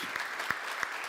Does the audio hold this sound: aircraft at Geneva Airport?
no